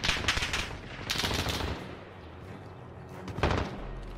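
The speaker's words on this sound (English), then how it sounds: "They're shooting right here." Bursts of rapid automatic gunfire from a Modern Warfare multiplayer match, clustered in a few loud volleys with quieter stretches between, no voices over it.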